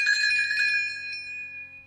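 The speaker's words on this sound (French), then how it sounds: "vous entendrez la fée Clochette faire tinter ses petites cloches" A quick shimmer of small tinkling bells rings out, then fades away over a couple of seconds.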